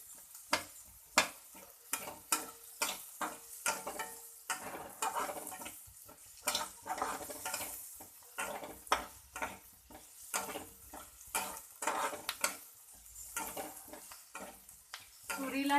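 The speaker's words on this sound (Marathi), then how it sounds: "जरा कांदा भाजून घ्यायचा" Chopped onion stirred and fried in a little oil in a pan: steady soft sizzle broken by rapid, regular scraping strokes of a spoon against the pan, close and fairly quiet.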